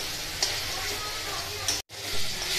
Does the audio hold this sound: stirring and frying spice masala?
yes